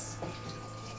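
Water runs steadily into a basin as apples are rinsed, a soft continuous splashing wash at low level with no talk.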